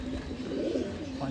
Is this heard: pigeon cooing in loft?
yes